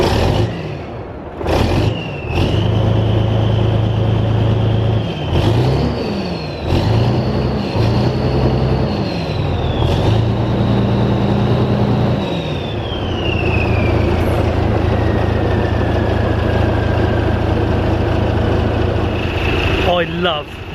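A Volvo F16 truck with loud exhaust pipes fires up and settles into a steady, deep idle, the engine rumbling close by with a few revs and shifting tones over about twenty seconds.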